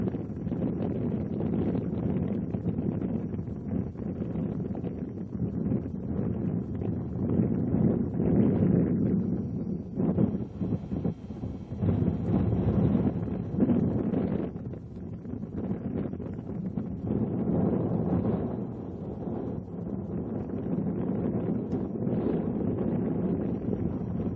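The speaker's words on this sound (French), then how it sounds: "seul le vent crée une animation" Wind gusts across a silent desert in Sudan, buffeting the microphone in a continuous low rumble that swells and eases for over twenty seconds, with no voices.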